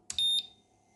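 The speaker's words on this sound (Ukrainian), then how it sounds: "Зараз подивимось, як воно реагує на кнопочку. Ага, пищить." A small electronic gadget on a repair bench gives a short high-pitched beep as its button is pressed, a brief doubled electronic tone heard close and clear against a quiet background hum.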